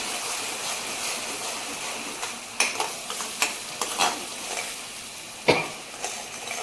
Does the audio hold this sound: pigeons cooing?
no